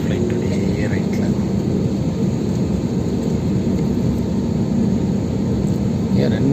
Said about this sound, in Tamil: ரைட்டில் திரும்புது ஃப்ளைட்,